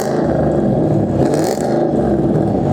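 Car engine being revved on a track-prep build, a loud sustained raspy roar with rising and falling intensity, close to the microphone.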